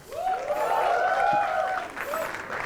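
Audience applauding the panel at a comedy show in Mumbai, a short swell of clapping and cheering under a whooping voice, fairly distant and moderate in loudness.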